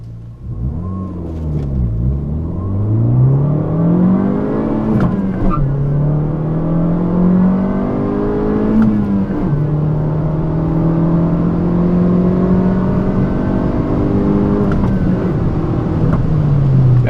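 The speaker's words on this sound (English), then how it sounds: "Let's go ahead and go through the gears here." A Fiat 500 Abarth accelerates hard through the gears from a stop, the engine note climbing steadily and dropping at each of several shifts, loud and close from inside the car with no talking.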